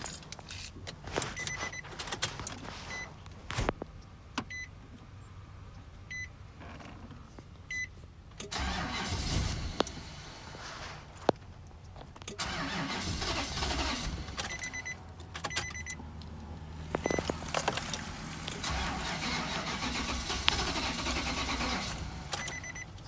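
A 2005 Nissan Titan truck engine cranks repeatedly without catching, in bursts of starter grinding separated by pauses, mixed with key jangling and clicks nearby, fairly quiet overall.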